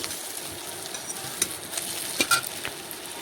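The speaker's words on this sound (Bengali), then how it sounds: "পেঁয়াজ দিয়ে পেঁয়াজটা নাড়াচাড়া করে একটু লাল লাল ভেজে নিচ্ছি" Chopped onions stirred and fried until reddish in a pan for a ridge gourd fish curry: a close, steady oil sizzle broken by a few sharp spatula scrapes and clicks, with no voices.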